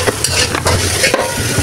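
Dal sautéing in a pan with ground cumin, chilli powder and turmeric, a steady loud sizzle broken by a few stirring scrapes, close up with no voices.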